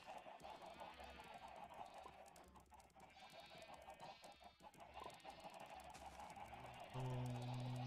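Chickens clucking in the Minecraft video game: many overlapping clucks and squawks close by, a busy flock sound throughout, with a steady tone joining in near the end.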